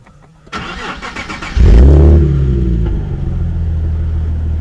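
A 2009 Nissan 370Z started by push button: a few quiet clicks, then the starter catches and the engine fires with a loud low burst before settling into a steady, strong idle rumble, close by.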